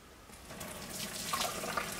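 Hot water from a pot of cooked ramen noodles is poured through a strainer into a sink, a steady rushing splash that builds over two seconds, with no talking.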